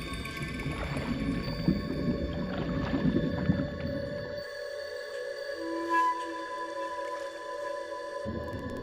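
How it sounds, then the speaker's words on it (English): Amazon pink river dolphin calling underwater, a run of faint whistles and clicks over a steady hum of water and boat noise, with a drop to quieter water partway through. "The pink river dolphin."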